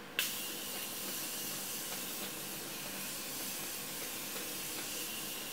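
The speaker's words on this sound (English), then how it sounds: "So I'm just going to apply a little bit of this spray." Makeup setting spray misted onto the face: a soft, steady hiss following a quick click at the start, quiet and close, with no talking.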